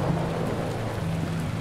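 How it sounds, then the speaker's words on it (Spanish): Steady heavy rain in the video game Mosaic hisses throughout, dense and constant, with a low rumble underneath and no voices. "donde pues estaba lloviendo, ¿no?"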